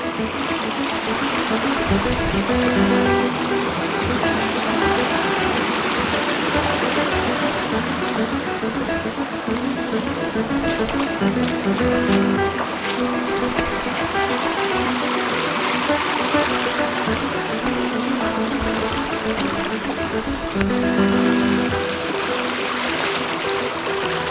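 The South Fork of Big Sur Creek flowing steadily, a constant rushing and gurgling of water that fills the whole stretch without pause.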